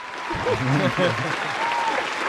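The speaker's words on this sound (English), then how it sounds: "Let me get a round of applause real quick." Brief applause on a podcast, a short burst of clapping and crowd noise running under overlapping voices, steady and moderately loud throughout.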